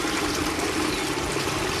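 Water drains through a basin in a Coriolis effect demonstration at the equator, a steady, close trickling and gurgling flow without pause.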